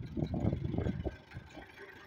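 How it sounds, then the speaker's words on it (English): A backhoe fitted with forks runs its engine nearby, a low, uneven chugging rumble that is louder for the first second and then eases to a quieter idle. "Backhoe with forks. This machine's awesome."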